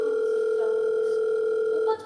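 During a church stage play, a call rings out and goes unanswered. A loud, steady electronic telephone tone plays alone for about two seconds, then cuts off abruptly.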